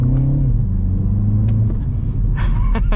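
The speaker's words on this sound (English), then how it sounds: "put it into go-kart mode, and we're gonna drive it around over here" A 2025 Mini Cooper JCW drives in go-kart mode, its engine a loud, steady low rumble with a brief pitch drop as it shifts, then continuous drone under faint cabin noises.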